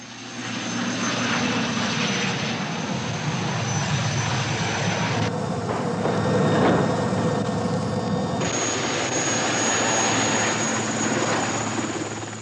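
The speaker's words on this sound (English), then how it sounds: "An airborne demolition party is helicoptered in to speedily lay the explosives." A military helicopter carrying an airborne demolition party flies past with a steady, droning rotor and engine noise that holds at an even, moderate loudness throughout.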